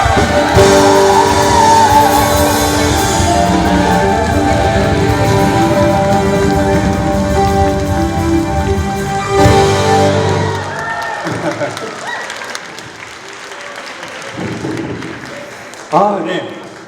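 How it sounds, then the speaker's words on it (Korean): Applause and cheering from an audience at a Catholic youth prayer gathering in a church, a long, dense burst of clapping and voices that fades after about ten seconds into quieter room sound and scattered talk. "큰 박수 부탁드리겠습니다"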